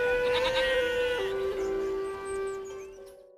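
A goat being herded lets out one drawn-out, wavering bleat that dips in pitch partway through and then fades, loud and near.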